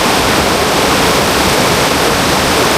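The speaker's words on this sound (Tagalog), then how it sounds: "Yan yung tubig." Loud, steady rush of river water at a swimming spot, a constant broadband roar without pauses, close up and filling the whole moment.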